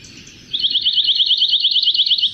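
A pine warbler sings a fast, even trill of rapid high notes, loud and clear for about two seconds after a short quiet start.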